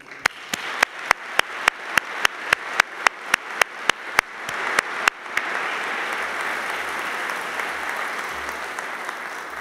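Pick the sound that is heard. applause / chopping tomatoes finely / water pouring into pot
applause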